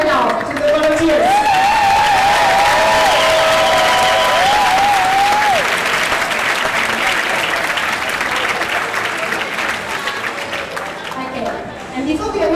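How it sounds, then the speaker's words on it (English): Loud, sustained applause from a large audience at a live international show, dense clapping with cheering and whistles early on, continuing steadily before tapering near the end. "a big round of applause is what they deserve right now to the volunteers"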